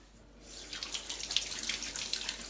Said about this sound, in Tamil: இது லேசாக நான் டேப் வாட்டரில் வாஷ் பண்ணிக்கிறேன்